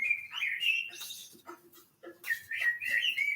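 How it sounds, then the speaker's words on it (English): Blackbird song in a forest: bright whistled phrases and chirps in two bursts separated by a short lull, close and clear with no talking over it. "It's this blackbird singing."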